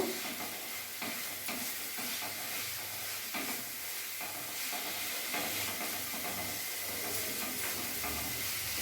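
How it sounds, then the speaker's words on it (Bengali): Fried potatoes are stir-fried in a pan over a raised gas flame, giving a steady, dense sizzle and hiss with repeated soft scraping strokes of a spatula throughout, close and uninterrupted by speech. "এবার ভাজা আলু দিয়ে আমি ভালো করে কষে নেব"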